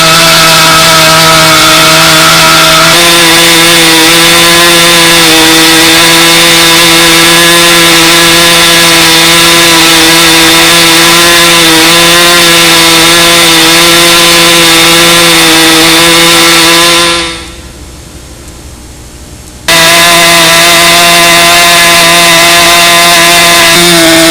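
A model airplane engine, a Jett 60 being broken in, running loud and steady with a high buzzing whine that cuts out abruptly for a couple of seconds before resuming at full strength.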